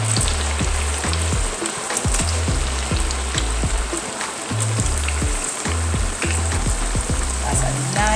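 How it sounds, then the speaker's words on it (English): Potato pieces deep frying in hot oil, a loud steady crackle and sizzle of bubbling fat that runs continuously under a low rhythmic background beat. "So we're just deep frying our potato."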